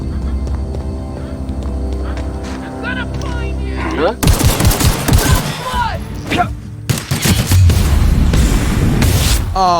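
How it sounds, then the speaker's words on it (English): Loud, dense bursts of machine gun fire from the shooter game The Outer Worlds, rapid rattling volleys mixed with booms and a voice talking over the gameplay. "Oh, you have a machine gun."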